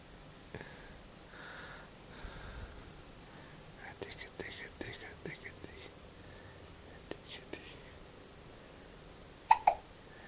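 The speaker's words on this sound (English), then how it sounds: "Hiccup." A baby gives a series of small, soft hiccups spaced irregularly, with a sharper, louder pair near the end, while an adult speaks quietly in whispers close by.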